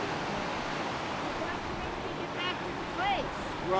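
Steady broadband rush of a river flowing beside a campground in the Smoky Mountains in springtime, with faint bird chirps and whistles rising over the water near the end.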